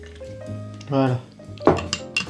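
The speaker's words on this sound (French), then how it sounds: "Et vous venez mélanger ça" A spoon stirring coffee in an Irish coffee glass, giving a short run of clinks and scrapes against the glass with a couple of sharper taps near the end, close and moderately loud.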